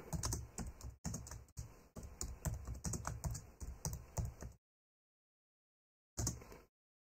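Steady, close typing on a computer keyboard, a quick run of key clicks lasting several seconds, then a pause and one short final burst of keystrokes, with no talking.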